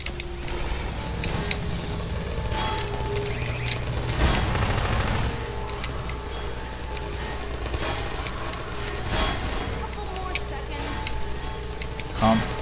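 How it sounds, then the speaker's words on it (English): A submachine gun fires in Half-Life 2, loud rapid bursts repeating over a dense, busy wash of combat noise that carries on throughout with only brief dips. "Time to switch to the SMG."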